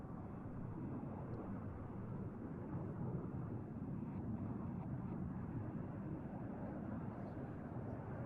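The Red Arrows synchro pair of jet aircraft flying at an air display produce a steady, broad roar of jet noise that holds a constant level throughout, distant and somewhat muffled, with no distinct passes standing out.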